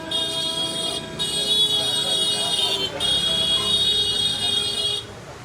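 Car horns honk on a hot, humid street beside a mosque in Ahmedabad, India: a sustained, fairly loud blare that cuts out twice briefly, with traffic noise underneath.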